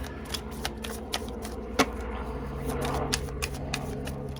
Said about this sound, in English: Let me shuffle a couple more cards for option number 1